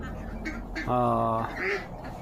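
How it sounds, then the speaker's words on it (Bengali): A loud nasal quack from a large Chinese duck rings out close by, followed by a shorter softer call, over a low background murmur. "এখানে অনেক বড় বড় চীনা হাঁস রয়েছে।"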